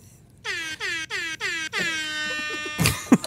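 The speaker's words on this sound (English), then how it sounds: "I think it's just an air horn." Air horn sound effect blasts in a rapid series of short, loud toots that run into a longer held blare before cutting off, heard alone with no talking.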